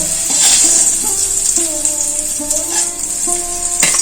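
Oil sizzles loudly and continuously as bitter gourd with salt and turmeric fries in a pan, with occasional clinks and a quiet voice in the background.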